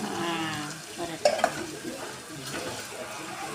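Ginger garlic paste frying in a pan with whole spices, onions and green chillies, a steady close sizzle broken by a few sharp scraping stirs of a spoon against the pan.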